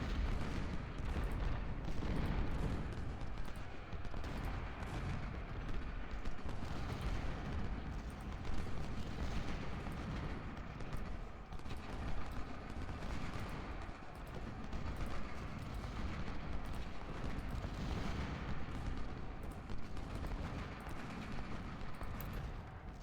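Continuous rumble of artillery and scattered gunfire in the Civil War battle game Ultimate General: Civil War, at the Hardin Pike fight near Nashville, a dense, steady barrage with no quiet gaps.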